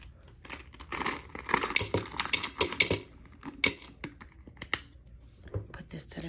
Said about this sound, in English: put my coins in my coin jar